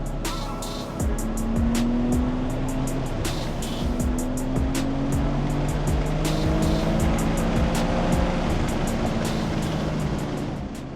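A BMW G87 M2 accelerates hard in third gear on a race track, its engine note climbing steadily and loud from the cabin, with repeated sharp clicks or ticks over the continuous drone.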